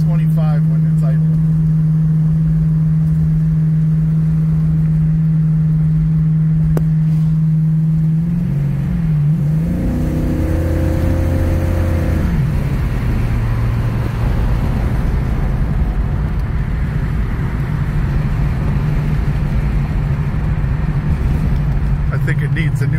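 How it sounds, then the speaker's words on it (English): A Buick GS400 engine drones steadily while driving, with a transmission that shifts too quickly. A hum shifts pitch mid-clip during the downshift, then settles into a lower rumble, with steady road noise and a voice talking over it. "We'll downshift this. And it shifts in a second too quick."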